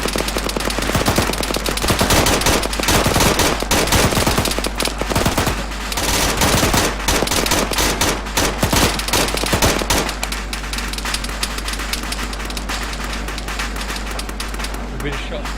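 A PKM machine gun in a video game rips through long, rapid bursts of loud automatic fire, joined by other gunshots, with people talking over the shooting.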